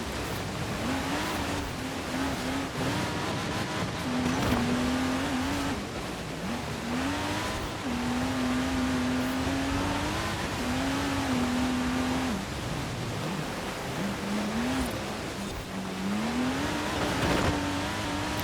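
Lego Porsche race car in Forza Horizon 4, a steady loud engine drone rising and falling in pitch as it shifts through gears, with tire noise throughout and no talking.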